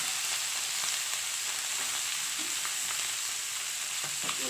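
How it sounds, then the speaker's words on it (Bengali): Chopped onion, garlic and green chili frying in oil in a pan for a sour snakehead fish dish, with a dense, continuous close sizzle and faint stirring scrapes beneath. "পেঁয়াজ কুচি রসুন কুচি আর কাঁচা লঙ্কা দিয়ে দিলাম এটা আমি বেশি ভাজবো না"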